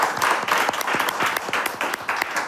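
A crowd at a gospel music event applauds, with sharp individual claps standing out over a busy bed of clapping hands, close and fairly loud for a couple of seconds.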